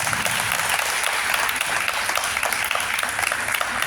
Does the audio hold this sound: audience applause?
yes